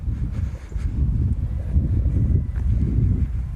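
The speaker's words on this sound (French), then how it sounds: "Il y a du vent, hein." Wind blowing at a beach buffets the microphone as a steady, loud, low rumble with gusty swells, heard alone without speech.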